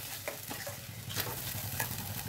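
Spices stirred in a pan for chicken curry, a quiet close sizzle with soft repeated spoon scrapes and taps against the pan, no voices.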